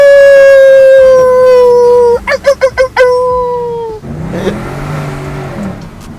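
A Mercedes C63 AMG V8 revs up into a high sustained howl, then pulses through several sharp throttle blips before dropping back to a rougher, lower idle rumble; loud and close.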